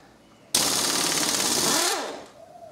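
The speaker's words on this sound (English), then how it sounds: "we now also change to a half inch socket to get the other bits and pieces undone" A ratchet fitted with a half-inch socket rattles in one continuous rapid burst of about a second and a half while undoing bolts on a Hewland racing gearbox, close and loud, then stops.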